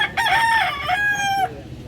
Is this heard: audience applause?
no